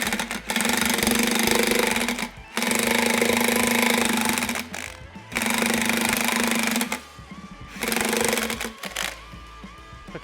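An impact wrench pulls a planter gauge wheel tire together in four loud, close bursts of rapid hammering, each about two seconds long, separated by short quiet gaps.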